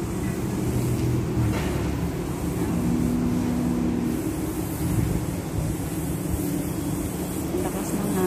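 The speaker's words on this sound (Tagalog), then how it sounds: "Ang lakas ng hangin yun." Steady, broad wind roar buffeting the microphone throughout at Laguna Park, Singapore, with low rumbling underneath and no clear voices.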